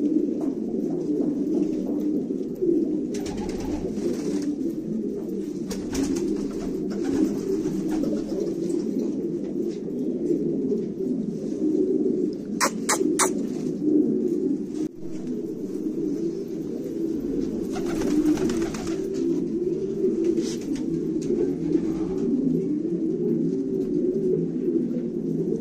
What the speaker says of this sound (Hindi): 45 कबूतर है, 45 कबूतरों का दस्ता ये